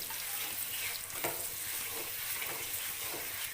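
Pulihora powder for gongura pulihora sizzles and fries in a pan while being stirred: a steady, quiet hiss with soft scraping from the stirring and no voices.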